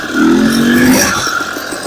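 An enduro motorcycle with rear-wheel chains revs up close in winter, rising in pitch with a rough, clattering tone, then settles back to a steady drone.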